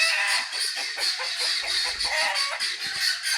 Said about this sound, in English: Oh, the guineas are upset too.